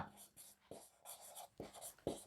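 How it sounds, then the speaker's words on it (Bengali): Pen or pencil scratching on paper in short strokes and bursts with brief pauses, close and quiet, while Bengali notes are written out by hand. "এরপরে লিখব বিচার"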